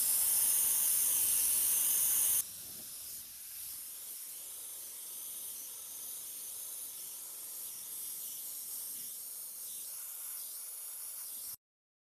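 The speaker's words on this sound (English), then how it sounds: "I don't hesitate to spray over the foreground if I have to." Freehand airbrush spraying paint with a steady airy hiss, loud and bright at first, then softer and continuous until it cuts off.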